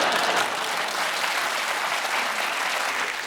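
A studio audience at a British topical comedy panel show bursts into dense, sustained applause that holds steady and fills the whole moment, with no voices over it.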